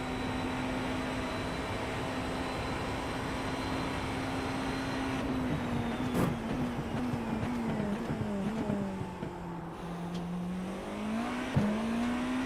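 Race cars in an iRacing sim race, a steady engine drone holding one pitch before dipping and rising as a car slows through a corner and accelerates away, with faint overlapping engines behind, no talk.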